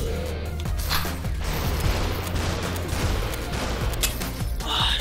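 Gunshots ring out in the VR shooter SuperHot VR as a steady run of sharp cracks and bursts, with mechanical clatter over a dense, loud game soundscape.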